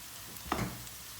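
Peppers tossed into a hot frying pan of chicken and onions give a brief burst of sizzling that swells and fades over a low, steady hiss.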